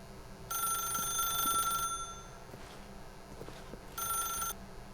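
A telephone rings in the video game The Stanley Parable, two bursts of bright electronic ringing separated by a pause, moderately near over a quiet room background.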